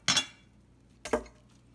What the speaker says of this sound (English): so I'm going to cut it into half